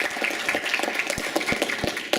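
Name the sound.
applause for panelists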